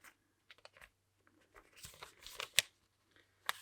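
A paper page folded over in a Hobonichi Cousin planner, soft crinkles and scattered crisp rustles building to a couple of sharp creasing snaps, close and quiet, with no talk.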